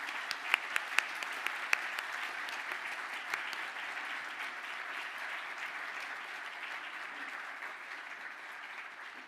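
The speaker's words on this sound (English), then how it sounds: "give a round of applause to those who have supported you in your journey to date" An audience at a graduation ceremony applauds, a steady, moderately distant patter of many hands clapping that fades slightly toward the end.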